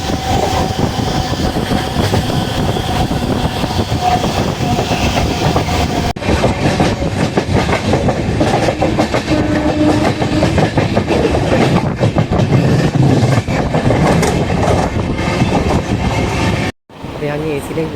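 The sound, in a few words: Sabari Express LHB train running on rails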